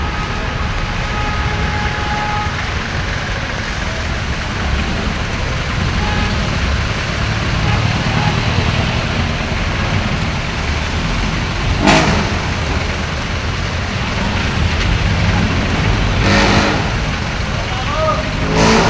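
Jeepneys and other road traffic on Taft Avenue in Manila, a steady wash of engines and passing cars with occasional revving, continuous and close, with a voice talking over the street noise.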